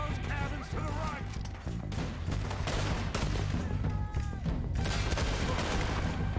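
Gunfire in the western video game Red Dead Redemption 2: dense, loud volleys of rifle and pistol shots crackling continuously, with a voice speaking briefly over the shooting.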